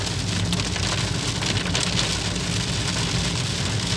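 Heavy rain pours down steadily, a dense, loud hiss of drops drumming on surfaces with no letup.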